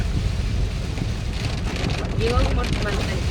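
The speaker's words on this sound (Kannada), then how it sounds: "ಮಳೆ ಮಳೆ ಮಳೆ ಫುಲ್ ಮಳೆ ರೆಡ್ ಅಲರ್ಟ್" Heavy rain during a red alert on a road trip from Bangalore to Kerala, a dense continuous wash of downpour with wind buffeting the microphone and a faint brief tonal sound near the end.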